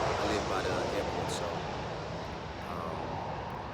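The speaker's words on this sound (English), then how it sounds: "pardon the airplane that's going by." A fixed-wing airplane passes overhead close to an airport, its steady, loud engine roar filling the background while someone speaks over it.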